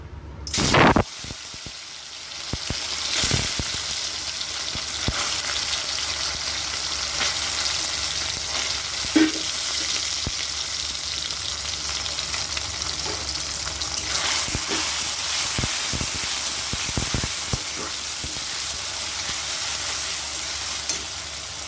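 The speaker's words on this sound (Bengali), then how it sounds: "এবার আমি সয়াবিনগুলোকে তেলে ছেড়ে দিচ্ছি।" Soybean chunks dropped into hot oil, a loud burst of sizzling at the start settling into a steady close frying hiss, with occasional clinks and stirring scrapes over about twenty seconds.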